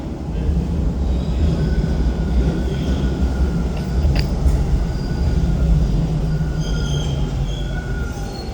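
A Toronto TTC subway train rumbles steadily into a station, with a loud continuous roar of wheels on rails and faint metallic squeals riding over it throughout.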